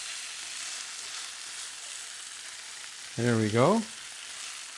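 Green onions sizzling in a pan with pork fried quinoa, a steady, fairly loud frying hiss throughout, briefly joined near the end by a short spoken remark.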